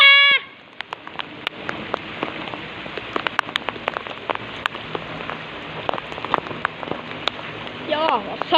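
Heavy rain pours down in a steady, close patter, with scattered louder drops hitting a surface. Brief voice-like or bleating calls rise at the start and end.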